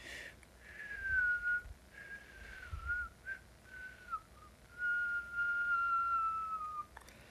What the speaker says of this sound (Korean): 방금 이거는 입술 우 하는 소리인데